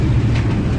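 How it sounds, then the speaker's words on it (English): A train rolls past a country football ground near Camperdown station, a loud steady rumble with faint rail clatter filling the whole moment. "the train sounds like it's still going"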